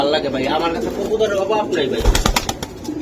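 Racing pigeons from various clubs coo softly in a mix of low, throaty burbles, with people talking over them close by.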